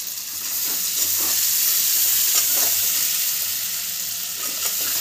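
Onions fry with salt in a pan for a vetki fish bone chorchori, giving a loud, continuous close-up sizzle and hiss with occasional soft stirring, and nobody speaks.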